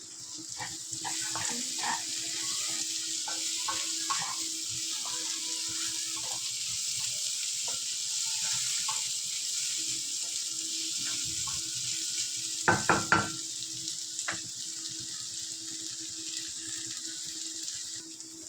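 Chopped tomato goes into vegetables frying in a pan, which keep up a steady hissing sizzle throughout, with soft stirring knocks and a brief louder clatter partway through.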